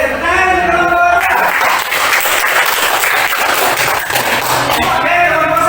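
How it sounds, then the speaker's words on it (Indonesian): A group in a classroom presentation session breaks into steady, dense clapping for several seconds, loud and close, with a faint tonal sound at the start and end. "Oke, tepuk tangan kelompok."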